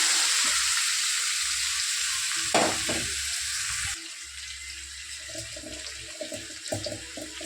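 Boiled yam pieces fry in a pan, giving a steady broadband sizzle with a few louder scraping stirs partway through; the hiss drops a little and continues more quietly with small clinks. No one speaks.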